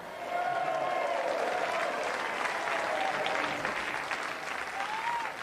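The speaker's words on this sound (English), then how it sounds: "Please give another round of applause to Jason and Lisa Porzel." A television game show studio audience applauds in a sustained, even wash of clapping that runs for several seconds, with a host's voice speaking over it.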